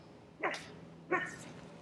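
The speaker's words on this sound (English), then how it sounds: "Oh, there's Kuma barking." Two short, sharp barks from a dog some distance away, spaced under a second apart against a quiet background.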